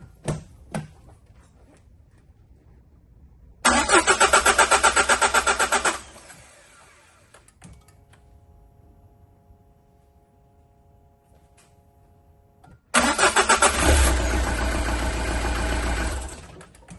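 A car engine cranks and fires with a Topdon JS3000 portable 12V jump starter, twice: each start is a loud rapid churning burst of a few seconds, the second settling into a rumbling idle, with a faint steady hum between.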